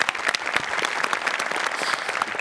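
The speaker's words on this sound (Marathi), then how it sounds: "जोरदार टाळ्या." An audience at a Marathi comedy show bursts into loud, dense applause, a sustained wall of clapping that stays close and even throughout, with no voices on top.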